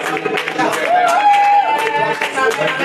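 A church congregation claps and cheers for Jesus, with rapid scattered handclaps mixed into loud crowd voices and a sustained raised shout rising above the noise.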